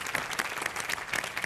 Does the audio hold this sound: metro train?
no